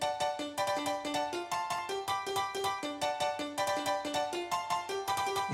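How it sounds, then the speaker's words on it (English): A subtle 90s piano layer for a hardcore tune plays on its own, quieter than the main part, with quick chopped chords in a bright, steady, repeating pattern. "It's another 90s piano."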